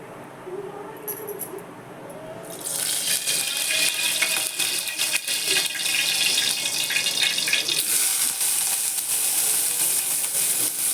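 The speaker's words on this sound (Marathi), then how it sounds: "कांदा भाजून घेते कांदा खोबरं धने त्यातच टाकले" Onion, coconut and coriander seeds dry-roasting in a pan for a fresh masala, giving a bright, steady hiss and crackle that grows louder after a quiet start, while someone talks over it.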